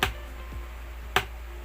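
A thumb pick tapping on the body of an acoustic guitar as a soft snare imitation, giving two sharp, close clicks about a second apart over a steady low hum.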